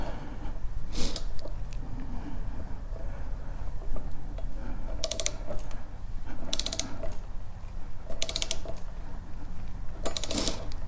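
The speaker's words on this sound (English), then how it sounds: "I think that the torque wrench will tighten this up good" A torque wrench set to 30 foot-pounds tightens a 52T crankset onto the shaft of a Himiway Zebra e-bike, producing several separate bursts of rapid ratcheting clicks over a low mechanical background, with no one speaking.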